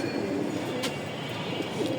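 Racing pigeons at a pigeon loft, heard as soft, low cooing murmurs under a steady background hum, with no clear voices.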